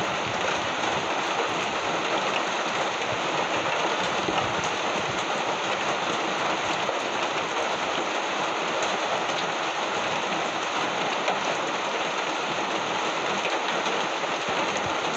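Steady rain pours onto a surface on a rainy morning, an even, close, continuous hiss of drops that holds constant throughout with no voices.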